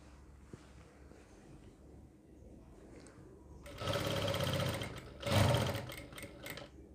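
An electric sewing machine stitches a kurti neckline: after quiet handling noise, the motor whirs in two distinct bursts, a steady run of about a second and a half, then a shorter, louder one.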